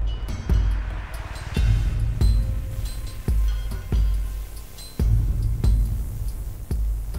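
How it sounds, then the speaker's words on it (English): Sparse percussion-only section of a video game music loop, with deep kick-like hits and sharp transient strikes recurring in a steady rhythm, loud and dry with no melody or voices. "I wanted to go into this kind of empty space where there's just going to be mostly percussion."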